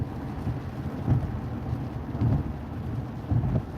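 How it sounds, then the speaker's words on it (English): Rain pours steadily on a car driving along a freeway, a constant wash broken by low, muffled thumps that recur roughly every second. "It's raining."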